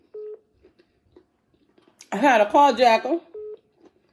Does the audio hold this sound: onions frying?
no